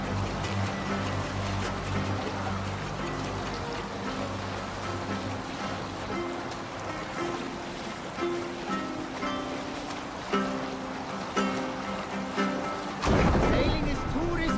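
A Viking longship under sail in Assassin's Creed Valhalla, with a continuous wash of water and surf against the hull and crew voices talking over it. A louder splashing crash arrives near the end.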